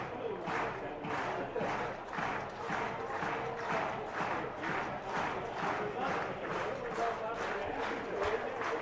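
A baseball crowd at a league finals game cheers its pitcher with a steady, dense roar and rhythmic chanting pulses, heard continuously from within the stands.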